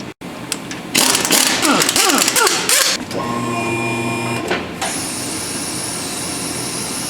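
A wheel and tire go back on a 2008 Honda CR-V after front lower control arm and ball joint work, with an impact gun rattling on the lug nuts in loud bursts, then a steadier whir that settles into a high hum.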